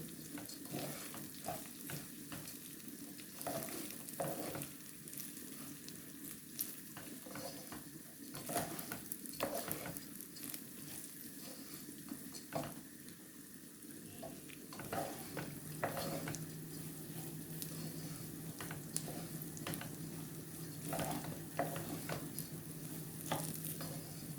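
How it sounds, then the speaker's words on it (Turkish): Rice being toasted and stirred in a pan for a pilaf with vermicelli: a steady sizzle of frying runs throughout, broken by repeated scraping stirs and light clinks of a utensil against the pan, with no talking. "iyice pirinçler tane tane kavrulana kadar, topaklaşana kadar kavuracağız"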